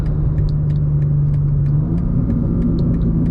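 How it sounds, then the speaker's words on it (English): The exhaust of a G87 BMW M2 gives a low, steady engine rumble with light, scattered crackling burbles popping over it at irregular intervals, close and fairly loud. "Nice little burbles. A little bit of a different experience from the Supra."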